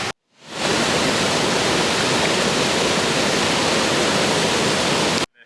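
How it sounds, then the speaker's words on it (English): A large waterfall in Washington State's Pacific Northwest roars in a steady, dense, close rush that fills the whole clip, cutting in sharply after a short silence and stopping abruptly near the end, with no voices. "Probably the best waterfall I've ever seen in my life."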